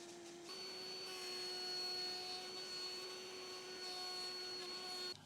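A handheld router cuts out the middle of a serving board template, giving a steady high-pitched motor whine that starts abruptly, holds evenly for about five seconds, then cuts off.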